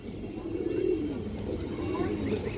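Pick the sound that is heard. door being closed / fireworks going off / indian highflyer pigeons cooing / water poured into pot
indian highflyer pigeons cooing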